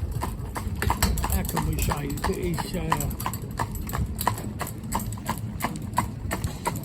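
Silver the cob's hooves clip-clop on a road in a steady, even rhythm, close and clear, while someone talks over them throughout.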